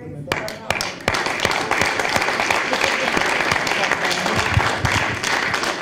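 Audience applause in a lecture hall at a talk, a dense wash of many hands clapping steadily and fairly loud for several seconds, with some voices mixed in.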